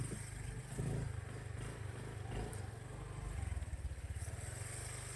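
A motorcycle engine idles and putters steadily at a rural home spot, with a low rhythmic chug and faint clatter throughout, moderately close.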